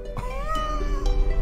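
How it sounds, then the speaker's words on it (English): A kitty cat butterfly creature in the video game Wandersong lets out a short, clear meow, close and bright, alone without talk. "It's a kitty cat butterfly. Meow."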